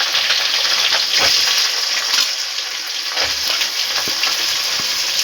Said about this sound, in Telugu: క్యాప్సికమ్ ఆయిల్లోనే మగ్గనివ్వాలి